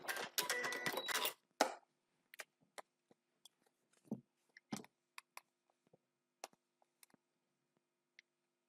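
A sewing machine runs a short burst of fast, evenly spaced stitches with a short stitch length through foundation paper piecing, then stops, followed by scattered faint clicks and taps in near silence.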